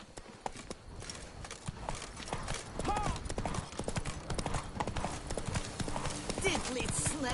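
Hooves of a horse clip-clop steadily in the game Witcher 3, a busy rhythmic clatter mixed with game ambience and other sounds, while a voice talks over it.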